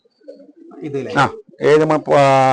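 Racing pigeons in a loft in Palakkad, including a bird flown in last year's race, cooing close and loud in a rising sequence of deep, throaty calls that grow fuller toward the end.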